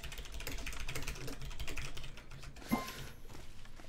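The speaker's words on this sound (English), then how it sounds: "Stop typing, yeah." Computer keyboard typing during a ranked Achilles match, steady dense clatter of keys running for about two seconds before thinning out, with a sharper click near the end.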